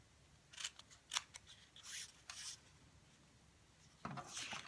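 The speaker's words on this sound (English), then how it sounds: "And cut out the next square." Paper being cut into a square with scissors for a craft shadow box: several crisp snips and short cutting strokes in an uneven rhythm, close and fairly quiet, with no talk.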